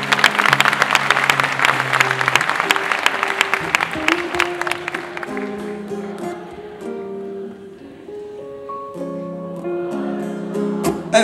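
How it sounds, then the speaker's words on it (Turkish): Audience applause at a live Turkish folk song performance, steady dense clapping that gradually thins while sustained musical tones carry on underneath. "burası alkışlayabilir"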